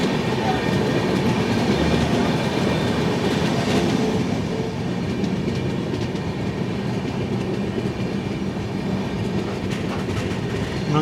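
The 22208 AC Express rolls toward Vyasarpadi Jeeva station, a steady, dense rumble of wheels and carriages sustained throughout at an even, moderately loud level with faint rail clatter.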